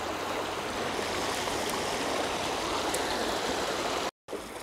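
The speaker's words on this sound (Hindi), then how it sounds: "देखिए इतना ही पानी आगे धीरे धीरे जा रहा है, यहाँ पे आप देख सकते हो।" Water flows over a small waterfall as a steady broadband rush, near and even, with a brief dropout near the end.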